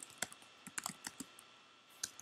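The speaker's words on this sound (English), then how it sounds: "why am I typing in Korean?" Keys click on a computer keyboard in short, irregular bursts during a Minecraft gaming session, faint and close with brief pauses between taps and no voices.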